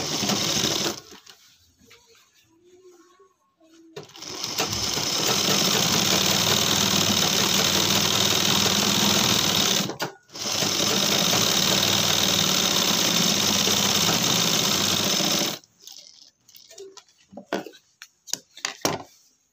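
An electric sewing machine stitches a pant waistband belt in one loud, steady whirring run of about eleven seconds, broken by a short pause midway, with quieter handling noises before and after.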